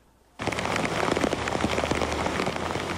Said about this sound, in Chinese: 大雨滂沱